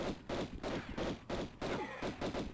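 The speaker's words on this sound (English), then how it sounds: "I'm just going to kill them with the pistols because why not?" Pistol shots in Tomb Raider I Remastered, fired at raptors in the Tomb of Qualopec: a steady run of about eight sharp, evenly spaced shots, fairly quiet overall.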